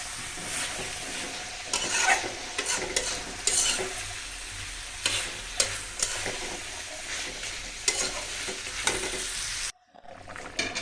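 Fish pieces go into a well-fried, thickened curry in a pan, giving a steady sizzle with frequent scraping stirs and clatters, then a brief cut to near silence before the frying resumes.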